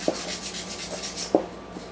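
Light sanding on the back side of a bone guitar saddle to shape a radius: soft, steady rubbing strokes with a few brief louder scrapes, close up, with no talking.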